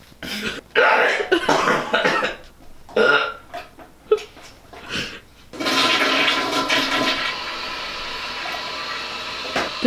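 A toilet flushes after a clog is plunged, a loud, rushing gush that starts midway and continues to the end, after several short, throaty bursts like coughs or burps.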